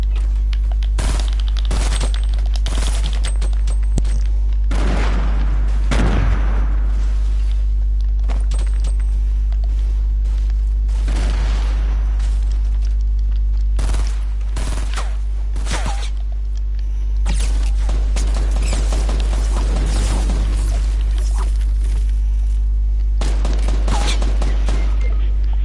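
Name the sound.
suppressed SMG gunfire in the video game Fortnite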